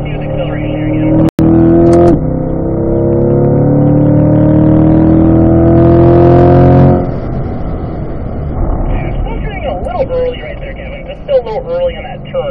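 A car accelerates smoothly on a driving school track, engine note rising steadily and loud up close for several seconds, then dropping away, with a brief click near the start and an instructor's voice talking over the engine.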